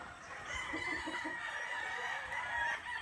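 A Kelso Roundhead cross gamefowl rooster crows on a game farm, one sustained call at moderate distance over a steady background murmur.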